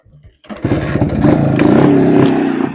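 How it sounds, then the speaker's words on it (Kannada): A 1973 Yezdi Roadking motorcycle kicks into life after a brief quiet stretch, its two-stroke engine catching and settling into a loud, close, burbling idle, with a voice speaking over it. "So that's how you on the bike."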